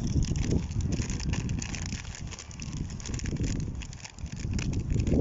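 Gusty wind buffets the microphone with low rumbling thumps that rise and fall throughout, with no other clear sounds.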